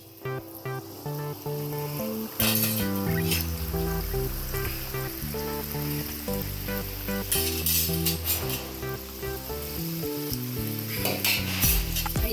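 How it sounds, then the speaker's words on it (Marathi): Gulab jamun dough balls drop into hot oil and fry on a low flame, a continuous sizzle running under loud, steady instrumental music with occasional clinks. "आता आपलं हे तेल गरम झालेले आहे आता आपण हे जामून टाकून घेऊया"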